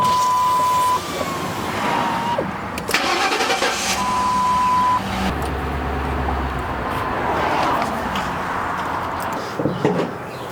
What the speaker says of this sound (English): hop in the car and start it and let it run until it dies out